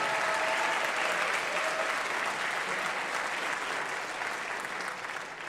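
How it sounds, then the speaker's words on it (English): Dense, sustained audience applause at a talks event, a broad wash of many hands clapping at steady volume that eases slightly near the end, with no voices over it. "Let's give a round of applause to Morningstar and KPMG."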